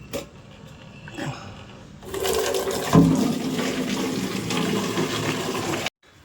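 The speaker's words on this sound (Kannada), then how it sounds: "ನೀರು ತುಂಬಿಸ್ಕೊಳ್ಳೋಣ." Water gushing from a tap into a container at a temple, starting with a faint trickle before a loud, steady rushing stream that fills the container, then cuts off abruptly.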